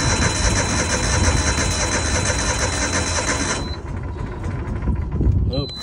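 A small engine at an airport auction cranks and catches with the choke pulled out, running rough and loud before dropping to a quieter uneven idle, with a voice heard over it.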